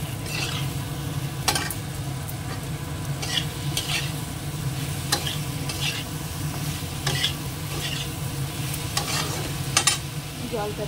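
Vegetables fry in a little oil with cumin powder, chili powder, salt and turmeric, sizzling continuously while a utensil stirs and scrapes the pan in irregular bursts, close and steady with no talking.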